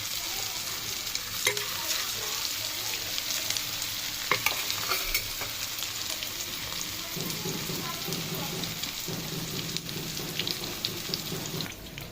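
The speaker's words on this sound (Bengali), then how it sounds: "তেল আমার গরম হয়ে গেছে, তো আমি এখানে ছেড়ে দেবো। অবশ্যই গ্যাসকে লো ফ্লেমে রাখতে হবে" Pieces of chicken tikka fry in hot oil over a low gas flame, a steady close sizzle with scraping stirs and clinks from the pan running throughout.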